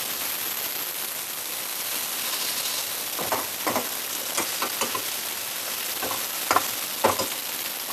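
Peanut powder being stirred into a curry frying in a pan at a home kitchen, steady loud sizzle with a few sharp scraping stirs toward the end.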